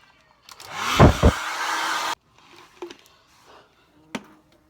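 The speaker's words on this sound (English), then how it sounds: "Right, and I start to blow dry again." A handheld hair dryer blows on natural curly hair in a loud, close whoosh for about two seconds that cuts off abruptly, followed by quieter handling noises and a brief knock.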